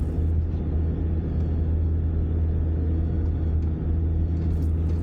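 A Land Rover Discovery 2 crawls slowly over desert sand on low tyre pressures, its engine a deep, steady rumble that holds close and constant throughout.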